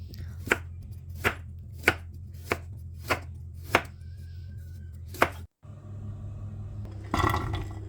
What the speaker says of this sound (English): You can also slice it in strips